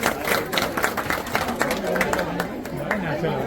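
Guests clap at an engagement ceremony in Mumbai, a steady patter of many hands mixed with crowd chatter and someone talking over it throughout.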